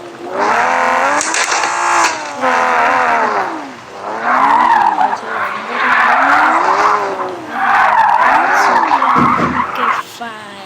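Cars race and skid in the video game Drive Zone Online, loud tire squeals sweeping up and down in repeated bursts over engine roar, close and continuous.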